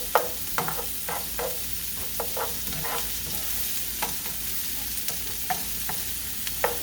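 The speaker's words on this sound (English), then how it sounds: "So that'll go in there and mix that up nicely." Chopped onions and a teaspoon of minced garlic fry in a single pan for chorizo and rice. A spoon stirs them in slow, regular strokes over a steady close sizzle, with soft scrapes repeating every half second or so.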